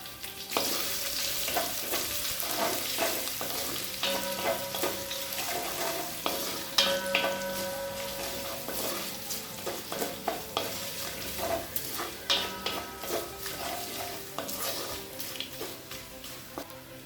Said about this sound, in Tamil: ஸ்லோலே வச்சு கலர் மாறாத மாதிரி வதக்கிக்கோங்க.